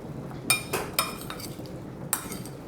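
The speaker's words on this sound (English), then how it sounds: "we're going to toss this together until everything is nicely coated" Potatoes, carrots and onions tossed with olive oil and fresh herbs in a dish, giving a few sharp clinks and scrapes of a utensil against the dish, close and fairly quiet, with no talking.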